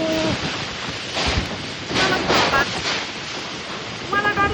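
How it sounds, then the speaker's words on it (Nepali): Strong storm wind buffets and roars in heavy gusts during a thunderstorm in Kurseong, rising and falling loudly around the microphone, with voices speaking through it. "यस्तो डरलाग्दो धुम्बा हावा हुरीहरू आइरहेको छ है हाम्रोतिर चाहिँ"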